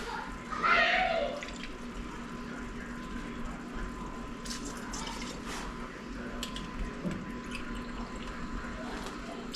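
E&J brandy is poured into a cooking pan, a short liquid splash near the start, followed by a quieter bubbling, dripping kitchen background under low room noise.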